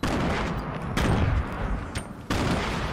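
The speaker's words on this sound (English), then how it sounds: "Oh, spamming grenades." Grenades exploding in a Fortnite match, a dense barrage of loud, close blasts and gunfire-like bursts with sharp onsets near 1.0 and 2.3 seconds, sustained and heavy throughout.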